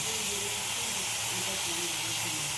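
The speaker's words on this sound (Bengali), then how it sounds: "এবার আমি এই বাঁধাকপি আর মটরশুঁটি দিয়ে দেবো এর মধ্যে।" Cabbage and peas hit hot fried spices in a pan for a prawn and cabbage dish, giving a steady loud sizzle and hiss throughout, with no voices.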